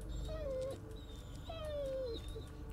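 A dog in the Blair Witch video game whimpers in two drawn-out, falling whines over a low rumbling game ambience, fairly close and with no speech.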